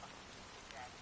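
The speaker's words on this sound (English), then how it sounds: "how long has this rain been going on for?" Steady rain falling in a Honkai: Star Rail game scene, a faint continuous hiss of drops with no break over about a second.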